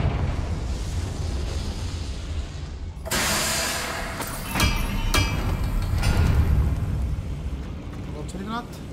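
Confringo fire spell in the video game Hogwarts Legacy, a sudden broad explosive burst cutting in over steady game ambience, followed by crackling and rumbling debris and a few sharper impacts.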